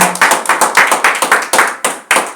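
A church congregation clapping together during a sermon: a quick, steady run of loud, close hand claps in a tight rhythm, with no voices over them.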